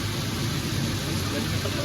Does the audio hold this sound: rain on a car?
yes